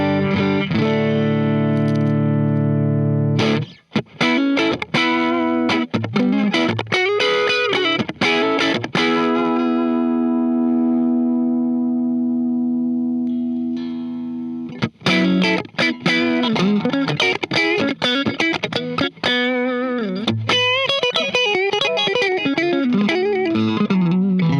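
Clean electric guitar through a Diamond compressor pedal on a Hughes & Kettner AmpMan amp, a loud, even run of picked notes and chords with a long ringing chord in the middle, then more rapid picking, no voices.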